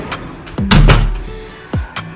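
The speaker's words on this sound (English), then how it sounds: "I'm just opening doors." Doors in a large, nicely furnished house being opened, giving a few heavy wooden thunks and latch clicks close by, with a louder thud in the middle and another near the end.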